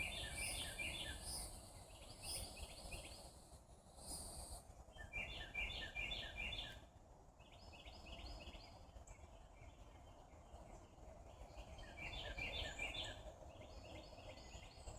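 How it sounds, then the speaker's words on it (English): Birds singing in the countryside, repeated bright chirping phrases in bursts from a few nearby birds, with a soft insect hum and quiet outdoor ambience beneath, no talking. "The sounds of the birds,"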